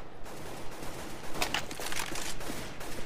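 Rapid automatic gunfire bursts in a video game bomb-planting match, a fairly faint crackling volley of shots across a few seconds with no talk over it.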